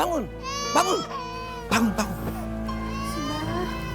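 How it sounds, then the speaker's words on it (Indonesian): A baby cries in a house in an Indonesian family drama episode. Wavering, wailing cries rise and fall in a few bursts, moderately loud and close, with a steady background hum and no talk. "Tuh, suara bayi."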